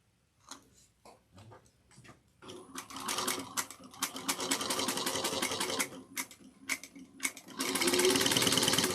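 A sewing machine stitches pieces of a willow woven tote, its rapid mechanical ticking starting in short bursts and then running steadily at close range, with no talking.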